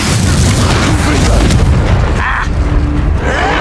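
An Incendio fire spell cast in the Hogwarts Legacy video game bursts out as a loud, booming blast with a roaring whoosh, heavy and sustained before tapering off, with combat effects around it and no clear speech.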